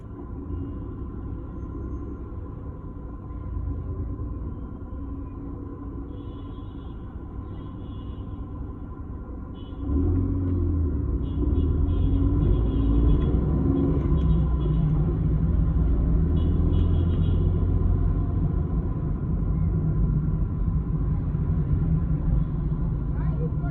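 Car driving on a road between Johannesburg and Melrose in Gauteng, South Africa, heard as a steady low rumbling engine and road drone from inside the vehicle that grows noticeably louder partway through.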